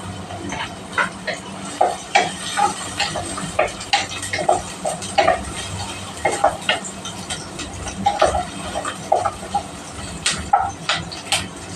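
Garlic being added to a pan and sautéed while cooking tinulang manok, with a low sizzle under repeated clinks and scrapes of a utensil stirring against the pan in an irregular rhythm.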